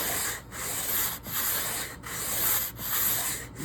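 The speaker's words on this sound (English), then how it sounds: "Just basically a handy sanding block." Rhythmic rasping of a flat sanding block rubbed back and forth over wood while building a ukulele, steady strokes with brief pauses at each turn.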